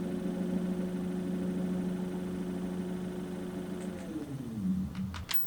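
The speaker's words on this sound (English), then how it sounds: "Now here's a clip of both motors running on speed 4." Two electric trolling motors, an Ultrex Quest and a brushed model, run together at speed 4, giving a steady low hum with a mid-pitched whine that holds level, then shifts near the end as brief higher clicks appear.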